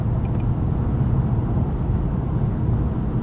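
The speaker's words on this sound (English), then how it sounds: "they've almost made it sound like a V6, which I think is kind of cool" A 2021 Acura TLX A-Spec SH-AWD cruising on the highway, its engine giving a steady low drone under broadband road and wind rumble, heard from inside the cabin with no talk.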